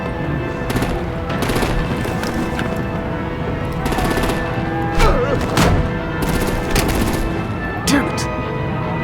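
Gunfire in Batman The Enemy Within video game, with several bursts of automatic shots over a steady game soundtrack and occasional heavier impacts.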